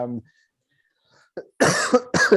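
A short burst of coughing with a throat-clearing quality, close and fairly loud, following a brief vocal sound and silence.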